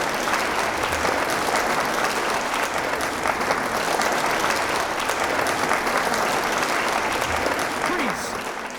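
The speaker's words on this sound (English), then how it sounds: "Cheer them on, everybody." A comedy magic show audience claps and cheers loudly and continuously, a dense, sustained roar of applause filling the room, with a brief voice rising over it near the end.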